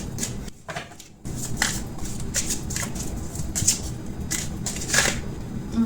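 A deck of tarot cards is shuffled and drawn close up, giving a continuous papery riffling and rustling with repeated sharp snaps as cards slap together, broken by a brief quiet pause near the start.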